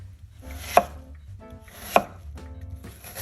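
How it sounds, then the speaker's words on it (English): A knife slices through squash on a cutting board, three evenly spaced crisp chops about a second apart, close and clear with no talking. "Let me rinse off my squash knife. And this doesn't have to be sliced up real fine."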